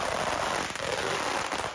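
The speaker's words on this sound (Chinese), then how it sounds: "肉身寒單爺站得直挺挺，接受鞭炮洗禮" Strings of firecrackers explode densely during a temple procession in Wanli, Tainan, a loud, continuous crackling barrage close by that never lets up.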